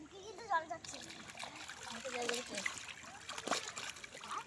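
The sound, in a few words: water splashing while bathing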